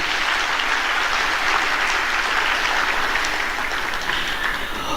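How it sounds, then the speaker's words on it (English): Hall audience at a music school's evening concert claps steadily and warmly, a dense, even wash of applause lasting several seconds without letup. "Let's give him a round of applause, ladies and gentlemen."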